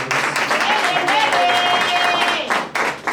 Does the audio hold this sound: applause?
yes